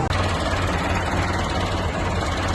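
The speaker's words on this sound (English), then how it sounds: "Tractors galore." Several tractors idle together at a charity tractor run, a steady low diesel rumble with a continuous vibrating drone, close and fairly loud, with no talk over it.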